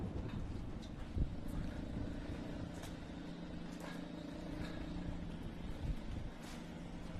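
A Formula SAE race car engine drones at an autocross event, a steady mid-distance buzz with a couple of brief louder bursts and no talk.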